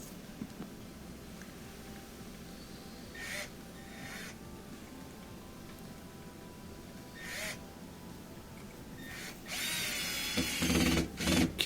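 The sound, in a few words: power drill driving a screw into a washer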